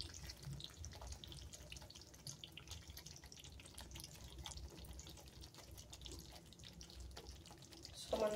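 Blender rinse water pours into a pan of simmering chicken tikka masala tomato gravy, a faint, continuous trickle and splash with soft kitchen background noise throughout.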